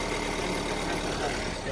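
A high-roof delivery van's engine runs at steady revs during a jump start, a loud, continuous low rumble with dense broadband noise and no talk.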